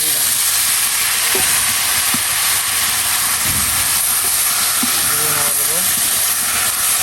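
Leafy greens land in a hot pan of sizzling onion, chili and garlic, and a steady loud hiss and sizzle runs throughout with a few soft clatters.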